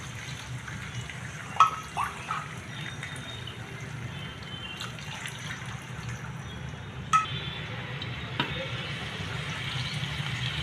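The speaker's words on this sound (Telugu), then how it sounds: "1కి 2 వాటర్ వేసుకుందామండి." Water is poured into a pan of upma seasoning at a one-to-two ratio, a soft running splash broken by a few sharp clinks and taps.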